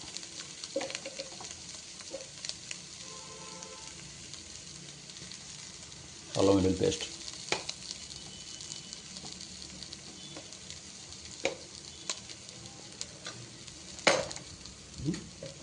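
Ginger garlic paste frying in a pan, a soft continuous sizzle with stirring scrapes and two louder clattering bursts of spoon against pan.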